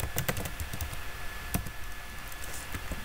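Quick bursts of computer keyboard typing while data is entered, crisp clustered key taps close by with short pauses between runs.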